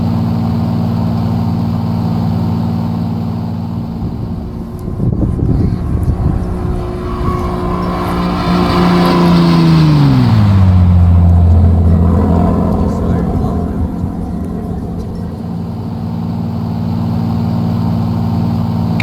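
Skunkcrafts P-51D Mustang warbird in a flight simulator, its engine droning steadily in low-level flight over the Lake District, the tone sweeping downward midway as the plane banks away, loud and close throughout.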